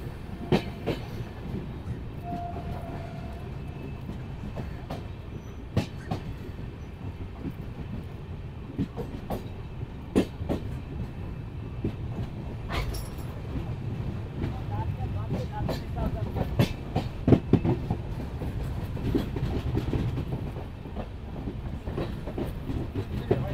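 The Kanchankanya Express rolls along its rails with a continuous low rumble and scattered sharp clicks and clacks from the wheels, heard from inside the train over a long, steady stretch, with some talking.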